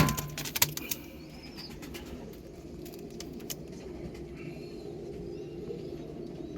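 Four domestic pigeons, two breeding pairs, give a soft continuous cooing hum nearby, opening with a few sharp metallic clinks and small handling noises, then settling into an even low murmur.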